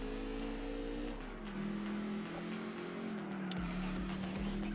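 TVR Griffith British sports car engine in the Gran Turismo 4 video game, a steady droning engine note that shifts pitch slightly as it runs, with a brief dip and return, constant and fairly loud throughout.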